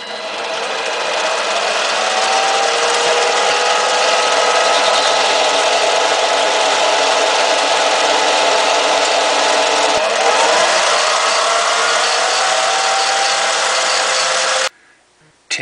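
A lathe turns down a kitless pen cap, giving a loud, steady high-pitched whirring and cutting hiss that runs unbroken for about fourteen seconds before stopping abruptly.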